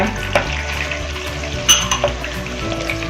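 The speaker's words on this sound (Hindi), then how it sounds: "इसको भूनना है, अदरक लहसुन पेस्ट को।" Ginger and garlic paste is sautéed in a pan for aloo methi, giving a soft steady sizzle with a few scrapes and knocks of a spoon, close and moderately loud, without talk.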